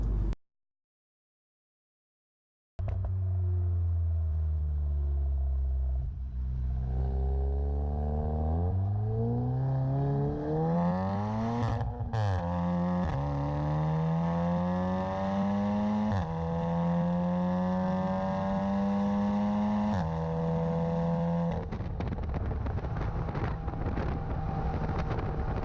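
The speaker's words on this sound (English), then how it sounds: "We're gonna listen to the exhaust while we're going high revs." Audi S3 Sedan with a 400 hp engine, exhaust revving high while driving: after a short silence, a loud, sustained engine drone climbs steadily in pitch through the gears, with brief dips at each shift and wind rush over the top.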